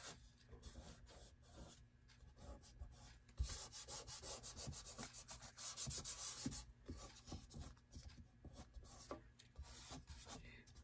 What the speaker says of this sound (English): I'm just very gently rubbing over to get out wrinkles